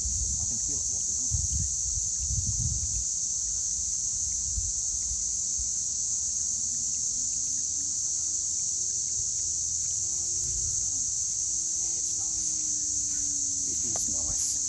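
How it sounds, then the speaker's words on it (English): Crickets or cicadas chirp at dusk in an outdoor landscape, a steady high-pitched insect drone running unbroken throughout, with faint low rumbles and a soft passing engine-like hum underneath. "Crickets, yes, you can hear the crickets or cicadas."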